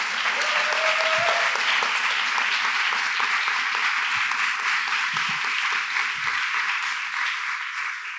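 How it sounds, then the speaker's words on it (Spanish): An audience bursts into loud, sustained applause, a dense wash of clapping that keeps going for several seconds before slowly easing off. "Un aplauso moi forte para min"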